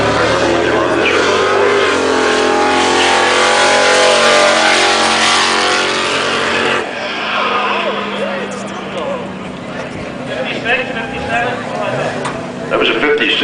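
A 1956 Chevrolet Bel Air runs a parade lap at a car show, its engine droning loudly and steadily before fading somewhat as it passes, with a commentator talking over it.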